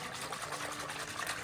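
A blender whisks crushed juniper berries in water to loosen the seeds from the pulp, giving a continuous close whirring churn with a watery wash and a faint steady motor hum.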